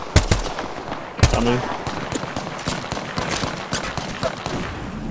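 Automatic gunfire in the battle royale video game Apex Legends, with sharp, rapid bursts and single shots recurring throughout, loud and close, while players' voices talk over the action.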